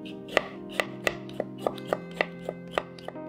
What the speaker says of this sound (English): Get three potatoes, skin and cube your potatoes.